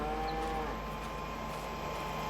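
Cows moo in the farming video game Farming Simulator 22, a faint, steady lowing sound blended into a constant low background hum, with no talking.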